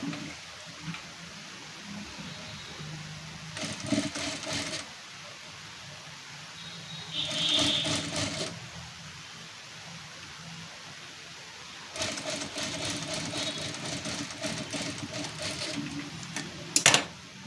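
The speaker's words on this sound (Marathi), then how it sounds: "आतल्या साईडला जे आहे ही पट्टी आपली इथं तुम्ही हेमिंग करून घ्या" A sewing machine hems a finishing strip on the inner side of a square neckline, running in three short bursts of steady, rapid stitching, with quiet pauses and a faint background hum between them.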